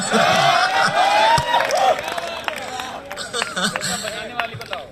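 Hall audience at a Kolkata hasya kavi sammelan, a comic poetry gathering, clapping for poet Ritesh Rajwada: a loud voice and cheering come first, then a spread of sharp hand claps and crowd noise that fades toward the end.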